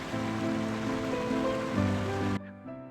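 Waterfall cascading down the 39 Steps in the Hogsback arboretum, a steady close rushing wash of falling water that runs continuously before dropping away sharply near the end.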